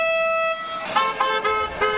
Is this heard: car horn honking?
yes